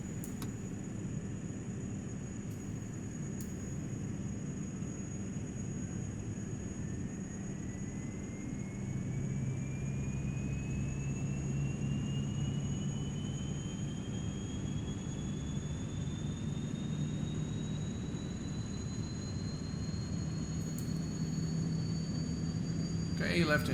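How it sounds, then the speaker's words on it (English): The left engine of a Saab 340 turboprop starting up in the X-Plane 11 flight simulator: a steady low drone with a thin whine that slowly rises in pitch over about twenty seconds. "And now we're gonna start the left engine."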